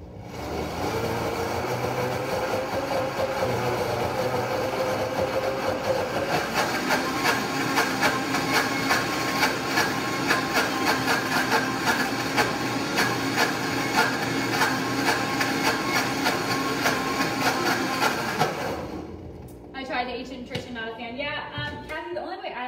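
A food processor blends frozen bananas into soft serve, giving a loud, steady, gritty motor roar with a rattling churn for about nineteen seconds before it cuts off and a voice comes in.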